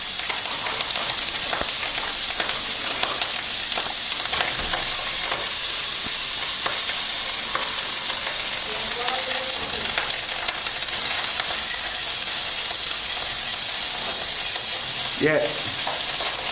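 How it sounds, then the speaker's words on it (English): Fried rice with eggs sizzles and pops hard over very high heat, a dense, constant loud frying hiss with scattered crackles and a couple of clinks, and someone briefly speaks. "So you can see that's popping away on a very high heat."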